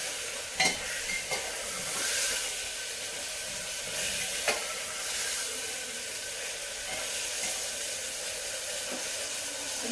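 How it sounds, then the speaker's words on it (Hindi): Vegetables frying in a pan for veg pulao, a steady close sizzle and hiss with occasional stirring scrapes and clicks throughout. "अब इन्हें भी थोड़ा सा फ्राई कर लेती हूँ।"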